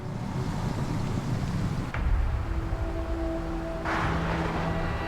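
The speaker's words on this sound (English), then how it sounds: "Holy it windy, eh?" Strong wind roars steadily, buffeting the microphone with low rumbling gusts and a brief louder blast midway.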